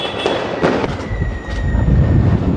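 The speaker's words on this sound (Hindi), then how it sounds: "पूरा शहर लक्ष्मी मैया के पूजन के पश्चात आतिशबाजी और बम धमाकों को जोर शोर से करने में लगे हुए हैं" Fireworks and firecrackers bursting across a city on Diwali night in Roorkee, Uttarakhand, heard as a few sharp cracks and booms over a constant loud rumble of distant explosions.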